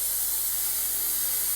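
A Haas minimum quantity lubrication system's atomizer nozzle sprays an oil mist in a steady, even hiss inside a closed machine enclosure, heard up close and alone with no talking over it.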